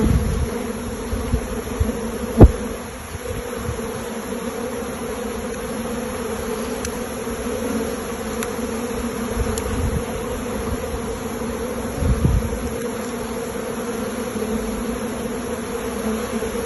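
Honey bees buzz steadily at a hive on a beginner's honey bee farm, a continuous close drone with a few brief louder bumps and handling knocks, no talking.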